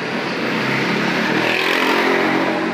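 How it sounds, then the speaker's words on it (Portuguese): Motorcycles and cars pass back and forth on a nearby street in a steady, loud rush of engine and road noise with revving, continuous and without speech. "agora é barulho de moto, carro passando para um lado e para o outro"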